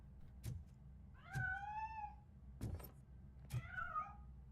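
A cat in the video game RoboCop: Rogue City meows four times, spaced out and fairly quiet. Two of the calls are long and rising, the other two are short and clipped.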